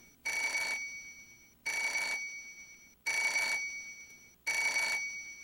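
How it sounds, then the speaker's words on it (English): A telephone rings in the video game Parasite Eve 2: four evenly spaced, bright electronic rings, each lasting about half a second with short silent gaps between, clear and fairly close with no talk. "How do you get a phone call on that phone?"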